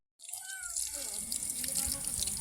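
Water bursts on from an outdoor shower stand in a Japanese park, starting abruptly and then spraying in a steady hiss with small splashes, close by.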